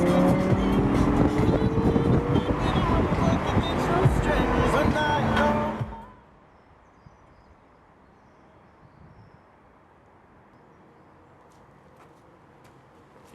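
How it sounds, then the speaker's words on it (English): An everyday car's engine runs loudly for about six seconds with a dense, rumbling roar, with voices faintly mixed in, then cuts to near silence. "This is my other car, this is my everyday car."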